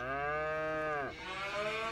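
Cows in the Farming Simulator video game let out one long, drawn-out moo up close, its pitch dipping before a second, rougher lowing note follows, with no talk over it.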